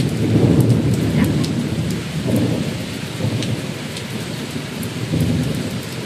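A downpour of heavy rain hisses continuously as deep rumbles of thunder roll in repeated waves, with no one speaking.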